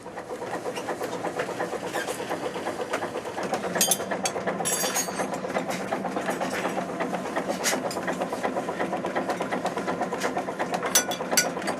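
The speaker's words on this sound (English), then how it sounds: "The tireless diesel engine propels the ship through the icy water at 6 knots" A sailing ship's diesel engine runs steadily at sea through icy water at about six knots, a continuous mechanical rumble with rattling clicks and faint scattered knocks, no voices.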